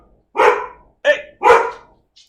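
A dog barks three times close by, loud and sharp, with a short gap before the last two barks.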